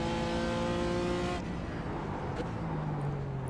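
A BMW M4 GT4 race car engine droning at Spa in the iRacing game, with a high steady engine note that drops abruptly partway through into a lower rumble, then rises again.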